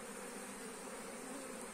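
Native honeybees buzzing steadily at a hive with emerging brood, a continuous close, even drone with no pauses and no voices.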